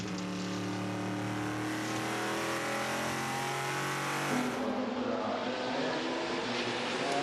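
Race cars at the 24 Hours of Le Mans in 2013 sweep through the Porsche curves, a loud, sustained engine roar that pitches down as the cars pass and fade.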